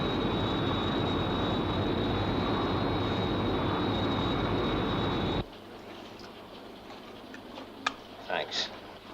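A Sky 1 interceptor aircraft from SHADO UFO roars loudly and steadily as it flies, then cuts off abruptly, leaving a quiet cockpit ambience with a few faint ticks and bleeps.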